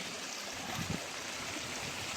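Rainwater rushes steadily through a swollen seasonal stream during heavy monsoon rain in the Konkan countryside, a constant broadband wash of flowing water, fairly faint and continuous, with no voices.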